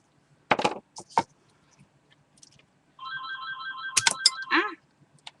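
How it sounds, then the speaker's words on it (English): A mobile phone ringtone plays a repeated two-tone electronic melody for about two seconds, close and clear. Brief clicks and handling knocks from beads being taken apart sit around it in a quiet room. "That's my phone."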